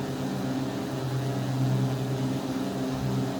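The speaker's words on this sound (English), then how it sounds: "There is definitely considerable difference as the engines are now synced." Synchronized twin engines of a Carenado B58 Baron in X-Plane, with the prop synchronizer on, give a smooth, even low drone that stays constant and fairly soft throughout.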